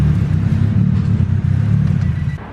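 A Honda D16Z6 engine with a big HX35 turbo and an exhaust leak idles nearby, a loud, steady low rumble with a rapid, uneven pulsing throb.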